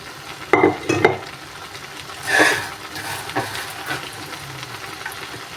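Boiled rice and fried winter vegetables are stirred in a pan for shahi bhuna khichuri, giving a few sharp scraping clatters followed by a soft hiss and faint sizzle, close and alone.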